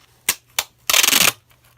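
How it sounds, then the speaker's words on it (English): Clear packing tape handled up close: two short sharp crackles followed by a longer ripping, crinkling burst as the tape is pulled, with quiet pauses between. "you take a piece of clear packing tape"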